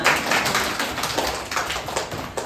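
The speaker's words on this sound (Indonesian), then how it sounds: "Beri tepuk tangan ya temannya" Classmates in a school classroom clap for a student's handmade work, a dense, steady patter of many hands lasting a couple of seconds without a break.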